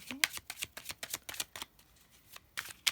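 Tarot cards being shuffled, a quick run of crisp riffling bursts and soft slaps at close range, irregular but rapid, with a short lull near the end before a final few flicks.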